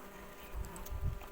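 A soft buzzing of honeybees hums low and steady, swelling briefly louder for a moment before settling again.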